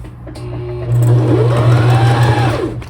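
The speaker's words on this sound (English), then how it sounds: "I'm just going to sew straight down the edge here." A sewing machine stitches straight down the edge of a quilted fabric scrap tag, a steady close motor hum that swells louder about a third of the way in and runs on without pause.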